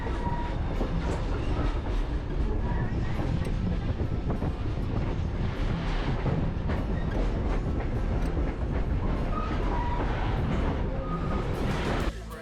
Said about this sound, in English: to catch the train for the hour-and-a-half ride back to Cairns